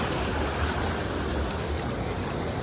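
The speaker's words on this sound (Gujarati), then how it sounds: "જો મિત્રો કેટલું પાણી આવે છે." Strong floodwater rushes near the highway toward Dhrol, a loud, constant broadband roar heard close throughout with no voices.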